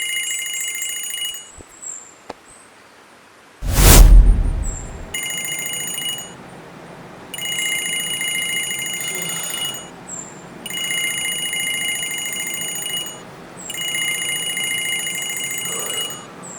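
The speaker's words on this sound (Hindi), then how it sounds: "अरे ये मेरे अलार्म का साउंड है" An alarm set for getting up to go to the office rings in repeated bursts of bright electronic tones, loud and close, with brief gaps between bursts and a single thump near the start.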